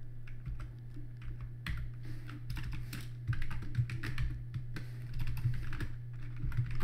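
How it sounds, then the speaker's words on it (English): Typing on a computer keyboard while scrolling through software presets, a run of quick close key clicks in irregular bunches over a low steady hum. "So using my keyboard, I can scroll, copy, save, and do this for all of them."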